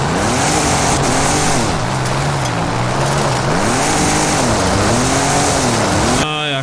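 Engine of a car climbing offroad through jungle terrain in Forza Horizon 5, loud and sustained with revs rising and falling as it labours uphill, ending in a sharp shift in pitch.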